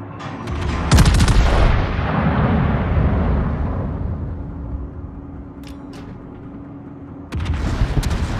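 Heavy naval gunfire in the World of Warships game, from a Rhode Island destroyer-sniper: a loud booming salvo around the first second rolls into a long rumbling decay, with another blast near the end.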